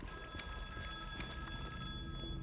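A payphone rings on and on in the Silent Hill 2 (2024) remake, a faint electronic bell repeating under a murky, droning game ambience with no talk.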